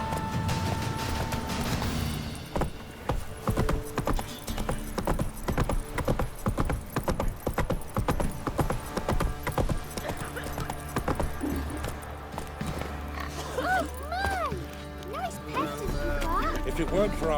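Roach, a horse in The Witcher 3 video game, trots with a steady clip-clop of hooves that runs under game sounds and spoken dialogue, with a brief musical flourish near the end.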